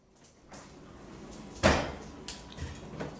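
A trained dog fetching a Coke makes household noises nearby, with a sharp thump like a cupboard or fridge door closing at mid-clip and lighter clunks and rustles after it, all without talk.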